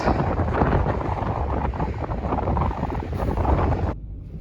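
Strong, cold wind roars and buffets steadily across the microphone near Thurso, loud and continuous, then cuts off abruptly near the end.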